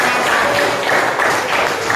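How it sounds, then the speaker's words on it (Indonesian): Schoolchildren in a classroom clapping together on cue, a brief loud burst of many hands applauding steadily without pause. "Oke, tepuk tangan ya."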